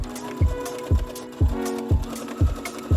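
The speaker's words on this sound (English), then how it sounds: "So I'm going to sew this down now." A sewing machine stitching a fabric seam, giving a steady whirring hum broken by regular thumps of the needle about twice a second, close and fairly loud, with no talk.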